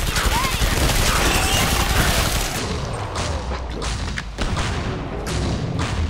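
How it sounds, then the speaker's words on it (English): Starter shotgun blasts in the video game Killing Floor 2 come amid a dense barrage of other gunfire and thuds, loud and continuous, with a player talking over the action. "The starter shotgun's kind of ass."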